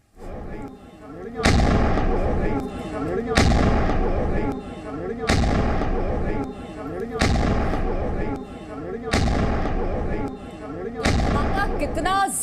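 Bomb blast explosions in Narwal, Jammu: a series of loud, booming detonations repeat at roughly two-second intervals, each with a sharp onset and a rumbling tail, carrying powerfully over noisy surroundings.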